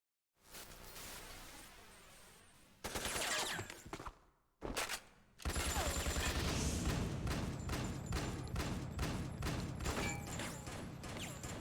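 A loud burst of video-game gunfire in Metal Gear. Dense rapid shots come in clusters with a short silent gap, then a sustained volley of cracks that continues to the end.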